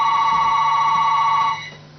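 A telephone rings with a steady electronic trill, loud and close, holding for about a second and a half before cutting off abruptly.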